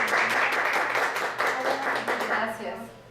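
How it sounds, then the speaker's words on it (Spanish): An audience applauds a guest speaker at a teaching session, a short burst of dense clapping that fades toward the end while a voice talks over it. "Le agradecemos mucho su presencia y le damos un aplauso"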